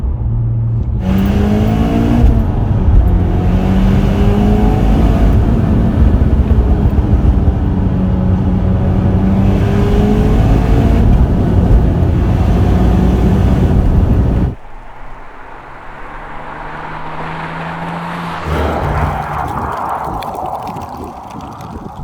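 A turbocharged Mitsubishi Lancer Evo X engine roars steadily under full-throttle acceleration, climbing through revs with gear changes up to fifth, then drops to a lower drone before surging again.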